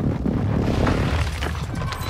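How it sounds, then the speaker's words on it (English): An airstrike in Call of Duty Modern Warfare II DMZ on Ashika Island detonates as a loud, sustained low rumbling boom of blasts and debris, dense and continuous for about two seconds. "It was Cronia, that's my airstrike."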